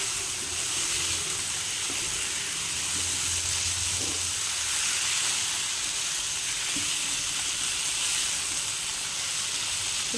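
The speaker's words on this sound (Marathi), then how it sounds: "सगळं व्यवस्थित आपण एकत्र फ्राय करून घेऊ" Small eggplants cut lengthwise and potato pieces fry together in oil in a pan, producing a steady, close sizzling hiss with faint stirring knocks beneath it.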